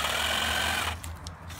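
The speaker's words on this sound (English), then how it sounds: "Power tool, make things a lot easier." A power tool whirs with a steady high-pitched drone, then cuts off abruptly partway through, leaving a quieter hum.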